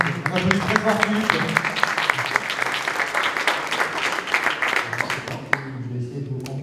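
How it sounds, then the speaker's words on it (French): An indoor audience applauds a speaker named Philippe, dense clapping sustained for several seconds before thinning out, with some voices mixed in near the end. "On applaudit très fort Philippe."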